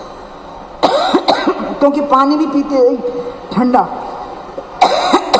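During a public speech in Bhopal, someone speaking into a microphone gives a few sharp, loud coughs and clears her throat between her words.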